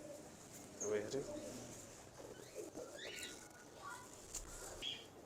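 A prized breeding pair of pigeons gives soft, intermittent coos, faint and fairly close, heard under someone talking.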